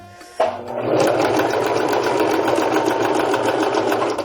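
A sewing machine runs steadily, stitching a circular seam on a small fabric fish-shaped pouch, starting with a sharp click and then a continuous close, loud rapid whirring hum for several seconds without talk.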